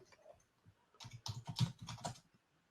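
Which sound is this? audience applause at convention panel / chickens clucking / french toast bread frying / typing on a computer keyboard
typing on a computer keyboard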